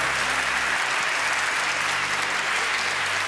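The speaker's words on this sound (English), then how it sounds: "Big applause to the family." An audience at an inventors' prize ceremony applauds in a dense, steady wash of clapping that holds at an even level throughout.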